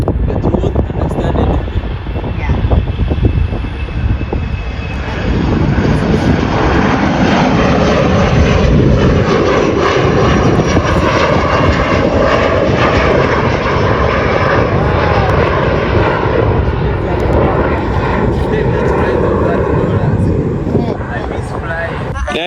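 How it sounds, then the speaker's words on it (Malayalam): A small propeller airplane on a desert airstrip in the Namib, its engine roaring loud and steady for the whole stretch as it takes off, with voices talking over the noise. "അവിടെ നമ്മുടെ വിമാനം പറന്നു തരാൻ വേണ്ടി ഇതാണ്ട് റൺവേയിലോട്ട് കയറിയിട്ടുണ്ട്"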